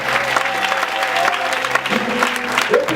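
A church congregation claps and cheers in praise during a French-language prophetic service, a steady dense wash of applause and crowd acclaim throughout with a sustained musical tone underneath.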